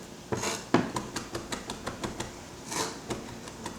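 A knife taps rapidly on a cutting board while finely mincing fresh rosemary, producing a quick, even series of sharp, close clicks.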